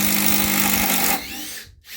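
A Makita cordless drill drives a screw into wood with a loud, steady motor whine that runs for just over a second, then drops to a brief quieter spin before stopping.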